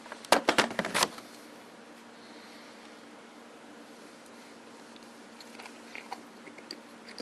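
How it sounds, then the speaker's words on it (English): A bite of a spaghetti and meatballs-like dish is chewed close to the mic, a cluster of wet, crunchy bites in the first second, then faint chewing over a quiet steady hum. "All right, I'm going to take another bite."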